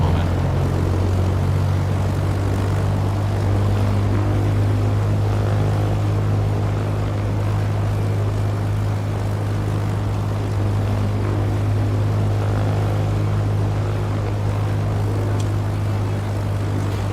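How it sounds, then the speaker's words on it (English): Piper Warrior II single-engine piston aircraft taxiing in Microsoft Flight Simulator 2024, its engine producing a steady, loud low drone with a constant hum throughout, and no voice over it. "I've been taxiing with the mixture all the way up."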